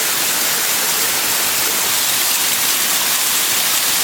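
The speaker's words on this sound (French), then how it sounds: "une cascade" A waterfall on an island, heard as a steady, dense broadband roar of rushing water, loud and continuous throughout with no voices.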